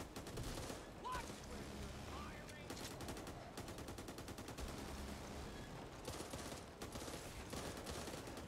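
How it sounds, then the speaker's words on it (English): Minigun fire in the zombie shooter Back 4 Blood comes as repeated rapid bursts of dense, rattling shots, with short pauses between bursts and chaotic game noise underneath. "At least we got a minigun."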